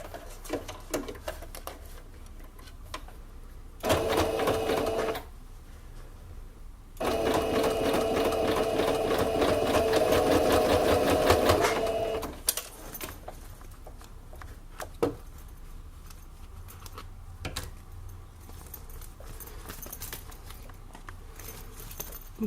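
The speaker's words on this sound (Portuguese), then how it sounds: "Vou pôr um alfinete e passar uma costura de segurança aqui." A domestic sewing machine runs a safety seam through pinned fabric pieces for a toothbrush and oral hygiene pouch, two loud bursts of steady stitching separated by a pause, then quiet handling noises.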